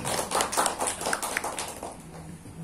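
An audience of entrepreneurs and small-business owners at a branding workshop in Karanganyar claps together in a quick, fairly even burst of about a dozen sharp hand claps. The claps are fairly close and taper off toward the end.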